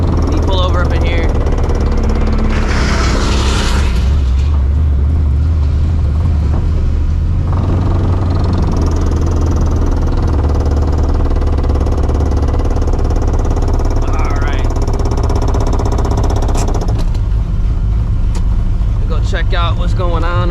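A supercharged New Edge Mustang GT is driven with no hood, its loud engine roaring and rumbling steadily throughout, with occasional talking over it.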